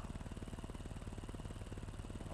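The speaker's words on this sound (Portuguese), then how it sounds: "tá vindo um louco de moto aí" Motorcycle engine in a street-racing setting, a steady, fast-pulsing mid-pitched drone at constant loudness throughout, with no voices over it.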